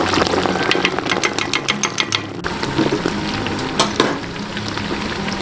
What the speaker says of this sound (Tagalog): Okay, salang na natin chicharong bulaklak mga kap.